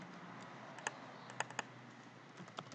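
Keys clack on a computer keyboard during copy and paste shortcuts, a few sharp, fairly faint taps in an irregular rhythm over a quiet room hum, with no talking.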